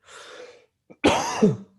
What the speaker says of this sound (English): That wasn't a COVID cough, I promise.